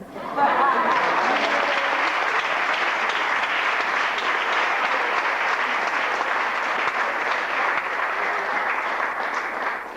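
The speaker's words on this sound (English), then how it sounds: "Please bring him on with a big round of applause, Brother Kwame Ture" A large audience at Howard University fills the room with sustained applause for Kwame Ture, a dense, loud roar of clapping with faint laughter, holding steady for the full stretch.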